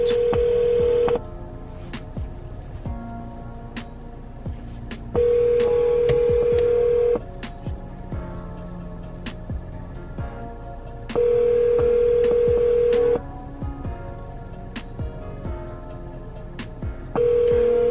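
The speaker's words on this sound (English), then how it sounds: "Why isn't the phone being answered?" A telephone call rings out unanswered: a steady ringback tone repeats in evenly spaced bursts of about two seconds, each followed by a longer pause, over a quieter background of music.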